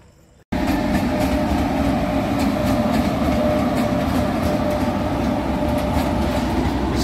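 The Sadbhavna Express pulls into an Indian railway platform. After a brief quiet moment, a loud, steady rumble of rolling carriages sets in, with a faint rhythmic clatter of wheels throughout and no voices.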